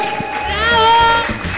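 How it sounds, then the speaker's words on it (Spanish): Applause and cheering from a comedy show audience, a short burst of clapping with a shouted voice ringing over it, loud and close. "Fuerte el aplauso"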